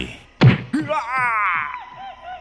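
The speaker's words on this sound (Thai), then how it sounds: "ปลิวไปกระแทกกับเสาเรือนดังโครมใหญ่" A body slams into a wooden house post with a single loud, close thump, followed by a long, wavering, voice-like cry.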